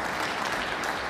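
Snooker audience in a professional quarter-final arena applauding a century break, a steady dense wash of clapping filling the whole moment without any talk.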